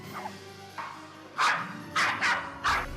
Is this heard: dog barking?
yes